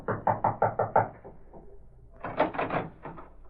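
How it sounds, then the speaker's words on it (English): A series of about six sharp knocks rap on a door in a radio drama scene, evenly paced and close, followed by a short pause and then a second rapid burst of knocking, with no talk over it. "he approached and rapped on the door."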